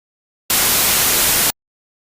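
A loud burst of pure white noise used as a music production sample, a full-band hiss that starts and stops abruptly and lasts about a second, with silence on either side.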